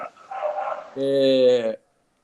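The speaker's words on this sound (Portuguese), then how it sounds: "Tem uma cachorrada aí, né" A short voice-like murmur gives way to a single drawn-out dog whine or howl, close and fairly loud, ending abruptly in silence.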